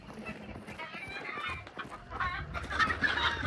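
Chickens cluck in the video game Hunt: Showdown, with several close, busy bursts of clucking that grow louder toward the end, mixed with faint game background noise.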